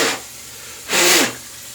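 A double-edge safety razor loaded with a Qball Israeli blade is rinsed under running water, producing two short bursts of broadband water hiss, one brief at the start and a louder one near the middle, with quiet gaps between.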